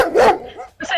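Dogs bark in short, sharp bursts, two quick barks separated by a brief gap, loud and close, with a whimpering tone between them.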